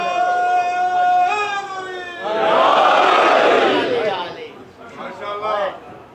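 A congregation at a Shia imambargah recites salawat together after a preacher's sustained melodic call, a loud massed chant of many voices that swells and then tapers into scattered voices.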